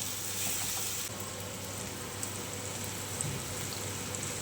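Tomatoes sauté in a pan with a steady, close sizzle that stays even throughout, broken only by a few faint ticks and pops.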